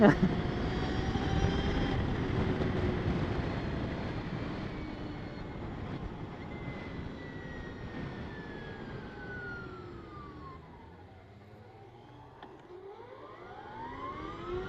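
A Victory Empulse TT electric motorcycle pulls away in first gear with a rising electric whine that climbs in pitch and then sweeps again, heard under rushing wind, moderately loud and continuous.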